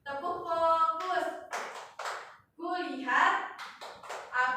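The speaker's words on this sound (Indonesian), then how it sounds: "Jadi ikuti ibunya. Begini, tepuk fokus." Teacher and pupils in a classroom perform the rhythmic focus clap, bursts of hand claps and taps mixed with children's and an adult's chanting voices across a few seconds.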